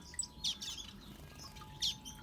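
Finches chirp in an outdoor aviary in spring, short bright tweets in sparse bursts, fairly faint over a quiet background hum.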